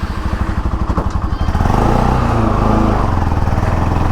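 A Bajaj Pulsar NS200 BS4 motorcycle engine running low on engine oil. A close, rapid putter at idle rises into a steady, loud revving drone, with no talking.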